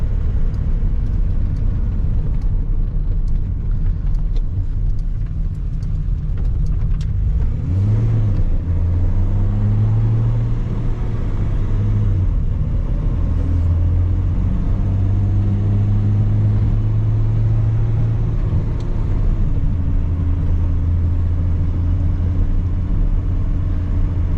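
A Datsun 280Z engine, freshly tuned with FAST EFI fuel injection, hums steadily at low revs, with a deep continuous rumble and slight pitch shifts as it cruises along.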